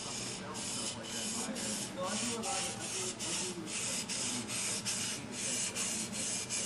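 A knife blade is drawn across a whetstone in steady repeated strokes, a rhythmic gritty scraping close to the listener with no talk.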